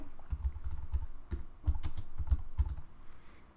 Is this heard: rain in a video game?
no